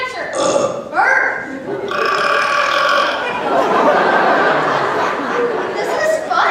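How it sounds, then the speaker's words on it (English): Repeated loud, drawn-out burps from people on screen, one after another with stretching pitch, over a lively background of chatter and light laughter. "Oh, how I love to burp."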